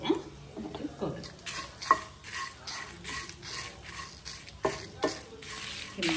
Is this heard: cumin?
yes